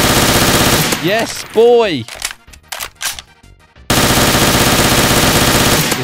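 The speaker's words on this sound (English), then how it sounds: "This gun's very powerful." Loud, dense rapid automatic gunfire in Garry's Mod DarkRP, continuous bursts that stop briefly while a voice shouts excitedly, then resume at full volume.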